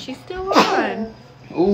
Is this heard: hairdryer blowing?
no